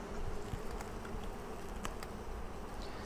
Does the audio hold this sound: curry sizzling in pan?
no